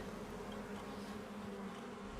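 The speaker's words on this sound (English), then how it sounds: "That's the sound of bees." Bees buzzing in the video game Honkai: Star Rail, a soft steady drone of a swarm running without pause at low volume.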